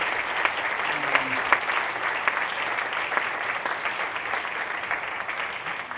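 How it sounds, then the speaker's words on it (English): A large crowd at a training event claps steadily for presenters, a dense, sustained wash of applause that stays even throughout. "could we all give a big round of applause to all of our breakout presenters?"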